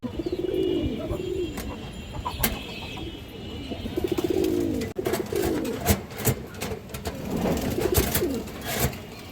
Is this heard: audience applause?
no